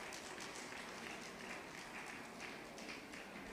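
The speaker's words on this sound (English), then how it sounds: "Can we give her a round of applause?" A round of applause from the audience at a conference breakout session on pharmaceutical supply quality, a faint, distant patter of clapping that holds steady throughout.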